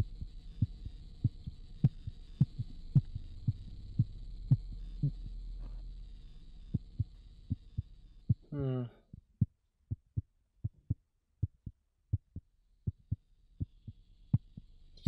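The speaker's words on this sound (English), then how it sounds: "Wonder why the heartbeat is changing as she's right here." A heartbeat effect from The Cat Lady video game pulses in a steady thudding rhythm over a faint high hum, then speeds up and continues after a brief sweeping tone.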